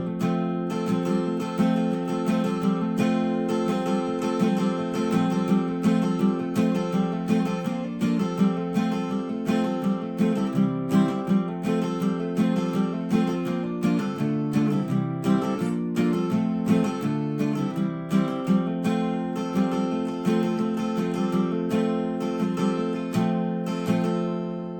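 Acoustic guitar plays the intro of a song at regular speed, a steady stream of picked notes and chords, close and clear, with no talking for the whole passage.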